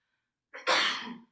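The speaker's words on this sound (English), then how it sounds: "Gesundheit." A single close, sharp human sneeze: a short inhaled build-up, then a loud burst that quickly fades, with silence before it.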